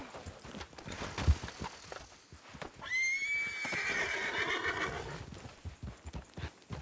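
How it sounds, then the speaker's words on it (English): A horse in the Red Dead Redemption 2 roleplay server WildRP whinnies once in a long, wavering neigh, preceded by a few hoof clops and soft background noise. "Here, jump on Dahlia's horse."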